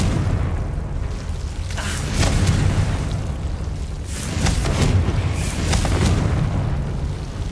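Explosions from Confringo blasting spells in Hogwarts Legacy: repeated deep booms and bursts swelling and fading over a continuous rumbling bed, loud and near, with no talking.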